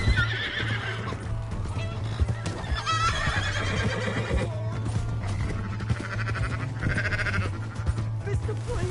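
A horse neighs loudly amid rapid clip-clop hoofbeats in Red Dead Redemption 2, with several whinnies over a steady low hum and game-like background sounds.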